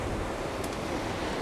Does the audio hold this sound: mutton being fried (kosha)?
no